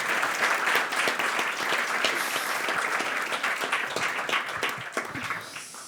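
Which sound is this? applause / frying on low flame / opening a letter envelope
applause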